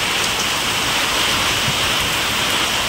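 Heavy rain pours down steadily over farm fields planted with soybeans, a dense, loud, continuous hiss with no voices.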